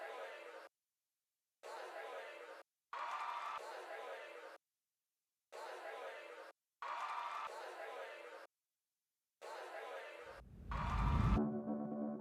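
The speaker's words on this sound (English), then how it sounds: "That's a little bit of cafe noise you can hear." Café chatter and murmuring crowd ambience mixed into a song, cut into choppy, evenly spaced bursts with silent gaps. A low, tonal musical swell closes it.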